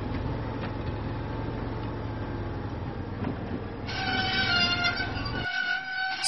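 Diesel, a toy diesel engine in a Thomas & Friends train video game, runs along the tracks with a steady, continuous rumbling rail clatter and faint ticking, loud and close, ending with a brighter whirring burst before cutting off.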